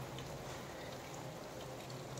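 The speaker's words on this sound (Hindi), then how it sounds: "बारिश शुरू है यार फिलहाल।" Steady, even rain hisses continuously, a dense wash of droplets with no pauses and no voices.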